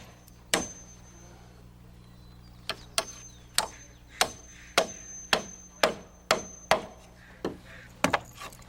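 Hammer blows driving nails into a wooden block on a roof rafter, toenailed into the plate: about a dozen sharp, close, loud strikes in irregular bursts over a low steady hum.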